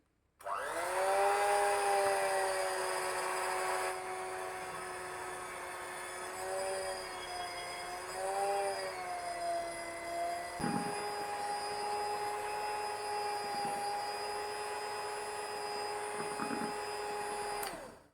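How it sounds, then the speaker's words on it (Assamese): An electric mixer beats egg sponge cake batter in a steady, close whir lasting the whole stretch, its pitch wavering slightly, with a few light taps against the bowl near the end. "আমি এটা কেকটো অলপ মেচিনেৰে ফেটি লওঁ"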